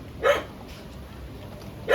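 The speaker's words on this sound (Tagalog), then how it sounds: "May ano, may aso." A dog barks twice, once early and once at the end, loud and near, with soft room noise between the barks.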